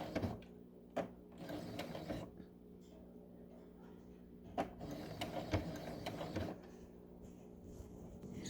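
A sewing machine runs a pillow seam and back-stitches over it, giving a soft mechanical whirring with gear-like clatter, punctuated by a few louder knocks and pauses between short runs.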